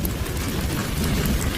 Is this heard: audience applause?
no